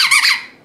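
A Kong ball dog toy gives one sharp, loud squeak close up, a bright rising-and-falling squeal that fades out quickly.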